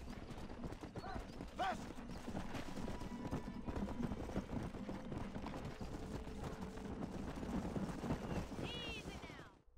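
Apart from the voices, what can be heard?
horse hooves clip-clopping, horses riding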